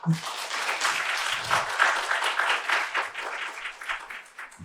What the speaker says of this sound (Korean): 박수 한번 쳐주시죠.